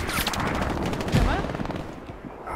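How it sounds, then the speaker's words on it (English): Gunfire in a squad battle-royale video game, a dense run of shots and bursts with a heavier thump near the middle, under team voice chat. "we're getting shot from the southwest"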